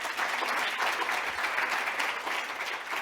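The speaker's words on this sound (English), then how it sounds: "a round of applause for all 4 speakers" An audience at a plenary debate on sustainability finance claps for the four speakers, a steady, moderately loud wash of applause throughout with no talk over it.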